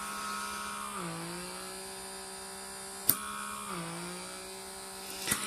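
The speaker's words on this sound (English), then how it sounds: "This one definitely does not have a super crazy suction power, this particular head." A Comedo pore vacuum runs at high suction with a steady electric motor hum, its pitch dipping twice briefly as if the load changes, with a couple of sharp clicks and no talk.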